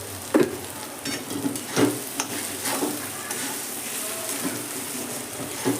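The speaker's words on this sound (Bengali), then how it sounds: "ডিমের কুসুমটা আস্তে আস্তে খুন্তি করে করে এইভাবে নেড়ে দেবো" Egg and vegetables are stirred with a spatula in a frying pan over a gas flame, giving repeated scraping strokes over a steady sizzle of frying food at close range.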